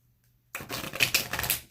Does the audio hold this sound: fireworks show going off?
no